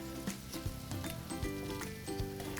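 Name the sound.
chicken cooking in bacon grease in a pan, flipped over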